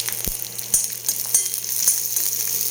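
Cashews and raisins fry in hot ghee with a steady, bright sizzle, punctuated by a few sharp clicks and taps of a spoon against the pan; no one speaks.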